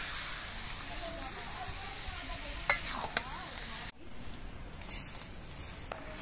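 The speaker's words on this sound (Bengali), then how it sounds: "পাঁচ মিনিট কষিয়ে নিয়ে আমি দিয়ে দিচ্ছি জল, চালটা গুলো সেদ্ধ হবে।" Water poured into sautéed elephant apple pickle in a pan brings a steady close hiss and sizzle with a few stirring scrapes, then a quieter simmer, while someone speaks.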